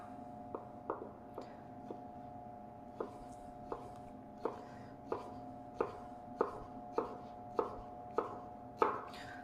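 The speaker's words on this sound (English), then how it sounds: "if I stack these ones up, and I square them off, then we're going to end up with that fine brunoise" A knife chops stacked, squared-off vegetables into tiny brunoise cubes on a cutting board, a faint but crisp series of about a dozen evenly paced taps with a quiet background.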